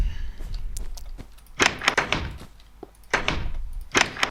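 Minecraft doors open and shut in a quick series of hollow wooden clunks, a pair near the start, more grouped in the middle and a last cluster near the end, close and clear with no talking.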